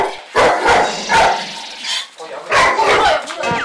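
A dog at a house barks roughly at an arriving visitor, giving a string of loud, close, harsh barks and yips in bursts, with voices talking over part of it.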